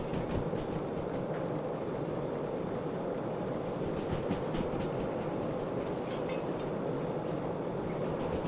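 A long train rolls steadily along the rails in the video game Derail Valley, a constant dense rumble with faint rhythmic clicks of wheels over joints, close and unbroken throughout.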